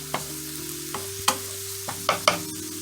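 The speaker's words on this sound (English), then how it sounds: "We're just sauteing until everything softens up." Vegetables sauté in a pan as a base for black-eyed peas: a gentle sizzle with a low hum underneath, broken by several sharp spoon clinks and scrapes against the pan.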